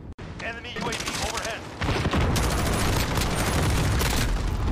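Gunfire in Call of Duty: Modern Warfare played with a controller: dense bursts of automatic weapon fire and booming shots, loud and continuous through the latter part, after quieter game noise at the start.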